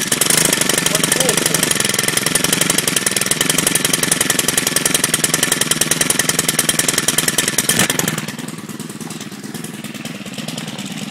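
A Stihl FS130R string trimmer engine runs loud and close with a rapid buzzing idle, then drops to a quieter, rougher note near the end as if about to stall.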